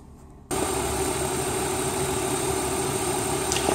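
A 1997 BMW M3 engine idles steadily and close by, a constant smooth hum that starts abruptly after a brief quiet moment and carries on without voices.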